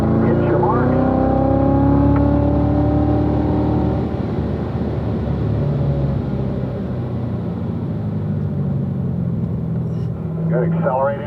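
A race car accelerating on the track at Spring Mountain, its loud, steady engine roar filling the whole stretch with pitch sweeping upward and then holding, while someone talks over it.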